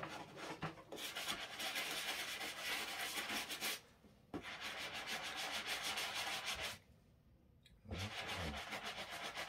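A sneaker toe cap being scrubbed with a medium bristle brush, heard as loud, rapid, close scratchy strokes in three long bursts separated by brief pauses.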